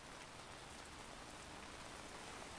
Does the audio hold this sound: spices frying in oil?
no